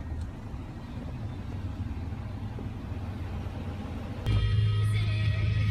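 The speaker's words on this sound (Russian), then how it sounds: "Все машины едут тихонечко" Cars creep slowly along a wet, icy road in Anchorage, Alaska, amid rain and snow, giving a low, continuous rumble. Near the end, a louder, steadier engine hum swells in close by.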